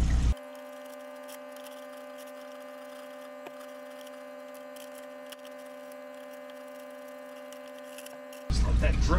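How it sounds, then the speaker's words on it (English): A parts washer runs steadily while cleaning a firewood processor's harvester chain, giving a constant electric motor hum with a flat tonal drone and a faint splashing wash throughout, starting and stopping abruptly. "So, just get the parts washer going here."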